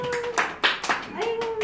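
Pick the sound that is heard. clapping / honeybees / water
clapping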